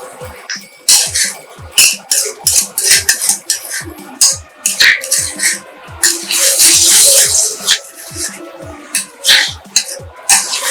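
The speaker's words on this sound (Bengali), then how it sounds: "ছড়িয়ে দিয়ে ভালো করে নাড়াচাড়া করতে হবে।" Spoon or spatula scrapes and clatters against a pan while yogurt eggplant (doi begun) is stirred, giving a busy run of close, irregular metallic knocks and scrapes with no talking.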